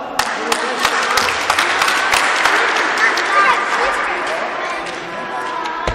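Crowd applause at a youth indoor football tournament award ceremony, sustained, loud clapping from many people nearby, with distinct sharp claps throughout and a voice speaking over it.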